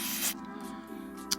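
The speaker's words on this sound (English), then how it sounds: "I'm just going to spray a little bit in there" Contact cleaner sprays in a short hiss into the RCA jacks of analog audio equipment, a close, fairly quiet burst followed by faint residual hissing and a tiny final puff.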